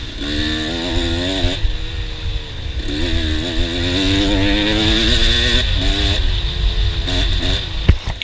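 A dirt motorcycle races a lap of the Farm Jam Round 2 farm track, its engine revving and dropping in loud, close, continuous sweeps with quick throttle blips and a sharp knock near the end.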